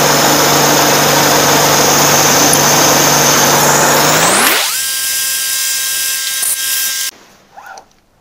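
A metal part is machined on a milling machine, its loud steady high-pitched whine of the spindle and cutter running for several seconds before spinning down, leaving a fainter hum that then cuts off.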